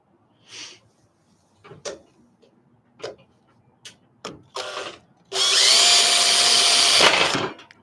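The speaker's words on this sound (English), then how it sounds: "I'm trying to use the lid of this storage thing to catch all the little shavings that come out." A power drill bores into a Happijack truck bed while the lid of a storage container catches metal shavings; several short ticks and bursts come first, then a loud, steady drilling run of about two seconds near the end.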